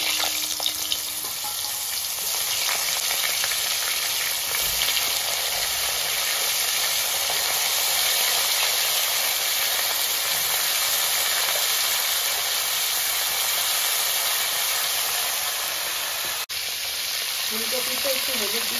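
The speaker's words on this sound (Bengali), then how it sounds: "এবার ফুলকপি গুলো ভেজে নিচ্ছি" Cauliflower florets fry in hot oil with a loud, continuous hissing sizzle and scattered crackles, close up and unbroken throughout, with a brief faint tonal sound near the end.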